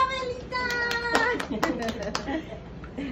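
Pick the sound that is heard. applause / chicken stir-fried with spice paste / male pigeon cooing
applause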